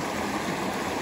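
A small brook in New Jersey flows steadily, a close, continuous rush and burble of water with no break or voices.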